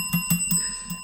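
Notification bell sound effect, a quick series of bright metallic rings with about four short strikes in a row over faint background, close and clean.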